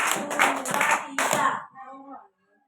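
A handful of sharp hand claps in a quick rhythm, close and loud, followed by a brief tonal voice-like sound before silence.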